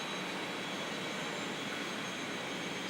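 A long freight train of about 54 cars with its locomotive coming up alongside, a steady broadband rumble and hiss of rolling stock holding even and fairly close throughout, with no talking.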